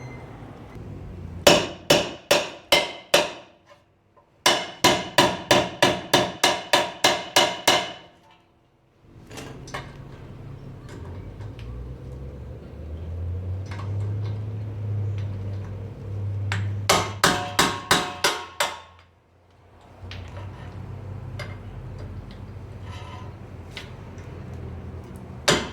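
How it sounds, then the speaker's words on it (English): A hammer strikes the rear brake rotor screws of a 2008-2012 Honda Accord in fast bursts of sharp metallic blows, roughly eight to ten hits per burst with pauses between, close and loud, with a low hum in the gaps. "Hit it with the hammer"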